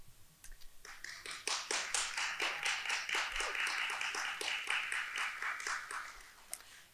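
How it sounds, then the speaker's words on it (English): Audience applause at a 2022 candidate forum for Illinois's 62nd District, a steady burst of scattered clapping lasting several seconds with no voices over it. "Thank you for that applause."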